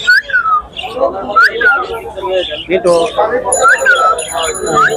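Pet birds, including talking birds, at the Mirpur 13 Bottola bird and pigeon market, giving repeated whistled calls close by amid a busy crowd of people talking.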